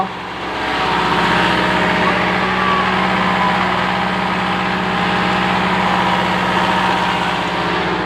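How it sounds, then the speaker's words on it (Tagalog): A borrowed unleaded petrol generator runs steadily close by, a constant loud drone with a low hum that holds from start to end, with no talk over it. "ito pala yung generator na pinairam niya sa akin"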